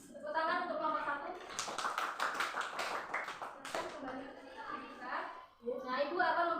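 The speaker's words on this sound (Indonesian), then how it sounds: "Tepuk tangan untuk kelompok 1." Classroom children clap for a winning group during an Indonesian-language lesson. A burst of quick, close applause runs for about two seconds, with speech before and after it.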